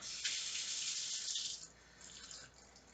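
Tap water runs into a half tablespoon measure for making energy balls. A steady, close hiss of flowing water softens and thins partway through as the stream is eased off; no voices.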